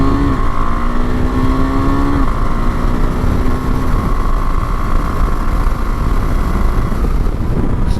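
A KTM 390 Adventure SW motorcycle pulls away in second gear out of a corner, the engine note climbing loud and close through the revs over constant wind roar.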